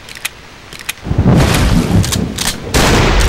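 Gunfire in the horror game Cry of Fear: a couple of faint early pops, then loud, heavy blasts with sustained low rumble and repeated sharp cracks toward the end.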